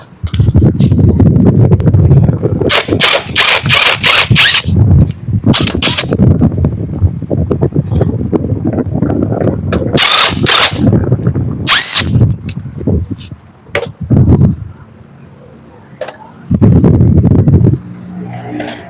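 A battery-powered impact wrench undoes a nut, with loud close bursts of rapid rattling hammering broken by short pauses and quieter stretches, while a voice talks in between.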